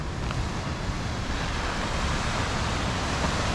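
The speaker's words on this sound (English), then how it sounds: "Got another nice little view of the ocean." Ocean waves and wind on the coast at Tulum, Mexico: a continuous loud rush of surf mixed with gusting wind buffeting the microphone, no talking.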